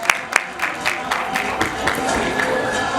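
Scattered claps build into applause from an audience at a sports academy certificate ceremony, starting with a few sharp nearby claps and settling into moderate, uneven clapping.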